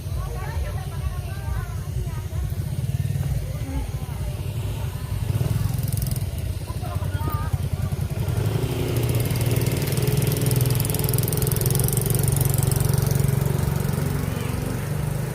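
Motorcycle engines idling outdoors in the Philippines, a steady low chugging rumble running throughout, growing slightly louder partway through, with a person talking over it.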